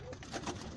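Rolling pigeons coo softly in a backyard loft, a brief low murmur amid rustling and faint background noise.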